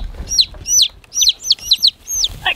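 Newly hatched chicks and hens on a homestead, with repeated high descending peeping chirps in quick bursts, close and fairly loud over soft low clucking and rustle.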